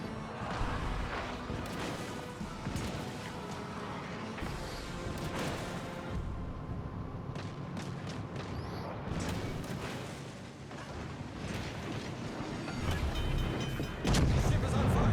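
Heavy battleship guns boom repeatedly in World of Warships Legends, with the old battleship Mikasa facing the cruiser Avrora, loud rumbling blasts layered over continuous game music and ambient battle noise.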